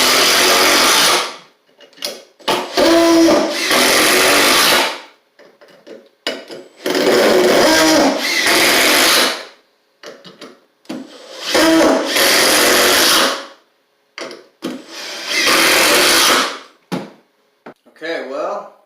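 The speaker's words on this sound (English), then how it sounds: "Now it's time for the speed test with the standard impact driver." A Makita standard impact driver drives screws in several loud, close bursts of whirring, hammering rattle, each lasting a second or two and separated by short pauses.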